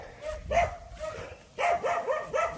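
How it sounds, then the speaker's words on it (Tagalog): Several dogs bark and yip close by in quick, overlapping bursts. "Ingay ng mga aso."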